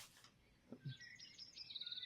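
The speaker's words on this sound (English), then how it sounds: "Oh, and some pleasant birds." Birds in the video game Eidolon give a few faint, high chirps and tweets in quick succession, growing into a short run of rapid calls near the end, quiet and somewhat distant.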